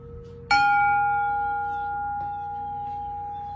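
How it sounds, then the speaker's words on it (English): A small Zen bell mounted on a piece of heart pine with a red stain is tapped softly once, giving a clear, pure ring that sustains and slowly fades over a few seconds, alone without talk. "it's kind of your Zen bell"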